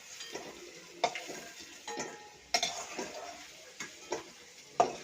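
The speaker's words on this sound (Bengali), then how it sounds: "এই তেলের মধ্যে ফুলকপিটা ভেজে নেব" Cauliflower florets frying in oil with a soft, steady sizzle, broken by several sharp clinks and scrapes of a utensil stirring in the pan.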